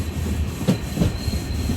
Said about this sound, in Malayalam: ട്രെയിൻ ഇപ്പോൾ കൊയിലാണ്ടി റെയിൽവേ സ്റ്റേഷനിലേക്ക് ഇതാ എത്തുകയാണ്.